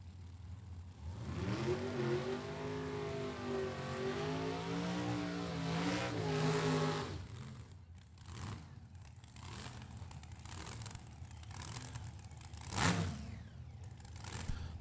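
Drag racing cars making a time run on a strip, a loud engine roar rising in pitch as they accelerate away, then fading into distant rumble and crowd-like noise.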